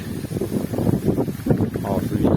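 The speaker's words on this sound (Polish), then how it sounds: "jak wieje? Masakrycznie, nie?" Strong wind buffets the microphone in an exotic garden in central Poland in September, a steady roaring rumble with gusty swells throughout, loud and close.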